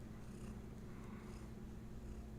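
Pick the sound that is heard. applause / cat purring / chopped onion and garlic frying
cat purring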